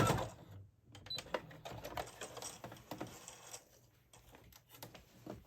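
A home sewing machine stitches across the top of fabric straps for a small gift project, quiet rapid mechanical ticking in short runs with brief stops, faint and close.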